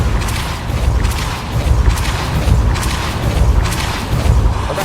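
A Repulsor spell blast in the Hogwarts Legacy video game, a loud, deep, rumbling boom with repeated thudding surges over several seconds and no speech on top.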